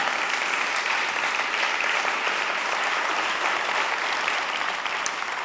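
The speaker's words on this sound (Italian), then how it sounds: "facciamo l'applauso" A live audience breaks into dense, steady applause for an Italian band at a variety show. The clapping is loud and continuous for the whole stretch, with no voices over it.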